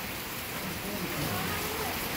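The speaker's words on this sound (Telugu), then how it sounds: "బెంగళూరులో ఫుల్ వర్షం పడుతుందండి" Heavy rain falls steadily in Bengaluru as a dense, continuous wash of noise, close and even throughout with no talk.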